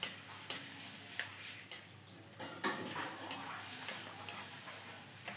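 Raw mango pickle is stirred in a pan over a medium flame, with a spoon scraping and tapping the pan in sharp, irregular clicks over a faint steady sizzle, close and fairly quiet.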